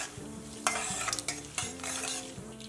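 Four green chillies and a little ginger fry in a pan for a poha dish, a soft sizzle broken by a few quick stirring scrapes, close and without voices.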